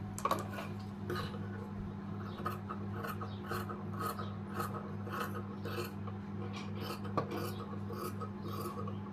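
Scissors cut through marked fabric for a short umbrella-style frilled sleeve, giving soft, quiet, rhythmic snipping and rasping strokes over a steady low electrical hum.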